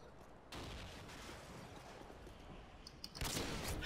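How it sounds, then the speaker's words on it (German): Gunfire and a burst of heavy shots at a barrel in Call of Duty Modern Warfare 2, dense and continuous with a sharper, louder blast near the end. "schieß auf das Fass"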